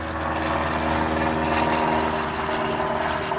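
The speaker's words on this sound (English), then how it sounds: "Airplane ahead." An airplane drones overhead during a road trip arriving in Frederick, Maryland, a steady broad engine roar that stays loud and continuous throughout with no talking.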